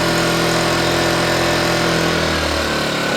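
A Hyundai HY1000Si portable generator with eco mode switched off runs at 5000 RPM, a loud, steady, high-revving engine drone with a constant buzzing whine, close by, with no speech over it.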